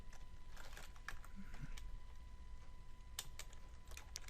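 Computer keyboard typing a Minecraft command, heard as faint, sparse key taps spread through the stretch with a short cluster near the end, over a steady low background hiss and no talking.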